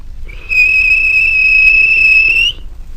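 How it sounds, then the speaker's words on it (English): A guard's whistle blown for a train's departure: a single sustained, shrill blast held steady for about two seconds, loud and close, with faint background rumble and no voices. "The guard blew his whistle."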